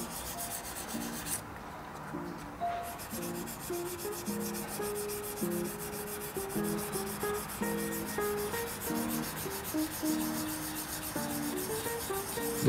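Black surfacer on a Tamiya 1/24 Nissan Skyline 2000GT-R plastic model body is polished by hand, giving steady close rubbing and sanding strokes throughout, with soft background music underneath.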